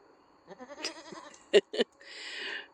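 A Kiko goat on a goat farm bleats in a wavering, nasal call, followed by two sharp close knocks and a soft rustling hiss; no speech.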